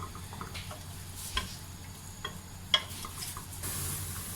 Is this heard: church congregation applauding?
no